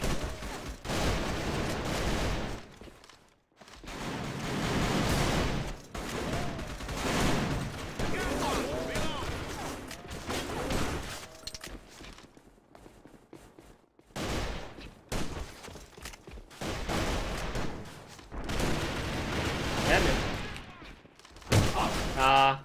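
Weapon gunfire in the shooter game AVA, with long rapid automatic bursts separated by short pauses, loud and close. A player's voice is heard among the shots.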